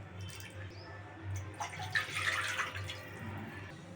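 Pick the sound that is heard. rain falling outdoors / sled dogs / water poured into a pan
water poured into a pan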